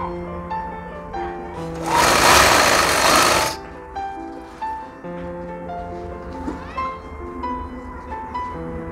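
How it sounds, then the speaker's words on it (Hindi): A sewing machine stitching the belt of a ready-to-wear saree, a short whirring burst of about a second and a half amid quieter tonal background sounds, with no talking. "ये जो बेल्ट है इसमें आपको इस तरह से इसको एक सिलाई मार लेना है"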